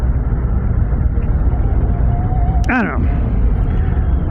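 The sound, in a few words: Harley-Davidson Street Glide Ultra motorcycle riding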